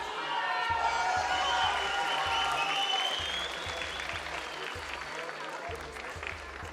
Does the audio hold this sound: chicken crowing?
no